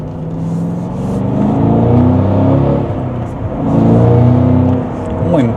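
A 2025 Cadillac CT5-V Blackwing's engine revs hard under acceleration, its loud, climbing drone surging in two waves heard from inside the cabin, with a voice talking over it.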